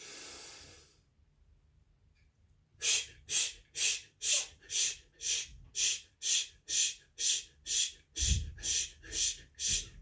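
A morning breathing exercise with deep, even breaths through the nose, heard up close as a quiet pause followed by about fifteen rhythmic airy pulses in steady succession.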